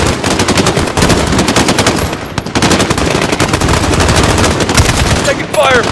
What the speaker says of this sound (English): Taking fire from the residence.